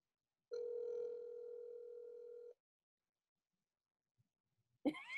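A phone ringing tone over speakerphone, one long steady electronic tone of about two seconds, then silence and a brief noisy burst at the end.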